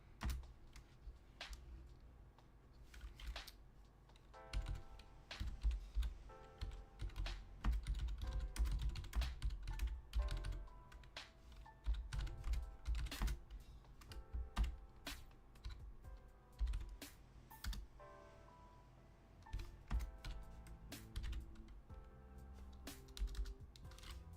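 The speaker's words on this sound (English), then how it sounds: "as I'm typing it now" Typing on a computer keyboard goes on in fast, irregular bursts of close, crisp key clicks with brief pauses between runs.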